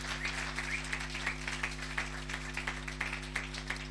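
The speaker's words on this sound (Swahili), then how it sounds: "Piga makofi mazuri kwa huyu jamaa." A church congregation applauds in a steady, rhythmic run of claps, moderately close and fairly quiet, lasting throughout over a low electrical hum.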